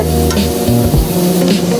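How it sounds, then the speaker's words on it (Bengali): Loud, close crackle of garlic frying in hot oil, with a steady hum running beneath the sizzle. "রসুনগুলো আমার লাল করে ভাজা হয়ে গেছে"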